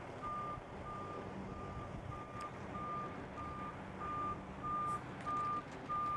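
A tractor-trailer truck reverses into the box with its backup alarm sounding a steady run of evenly spaced beeps over a low engine rumble, clear and moderately close.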